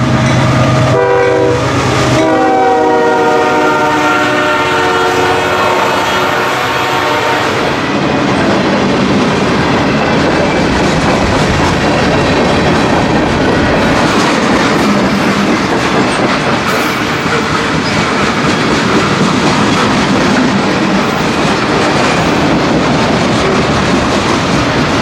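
A CPKC freight train passes on a railroad crossing trestles over rolling hills, with a loud horn blast at the start, then a sustained heavy roar and steady clickety-clack of wagons rolling close by for the rest of the pass.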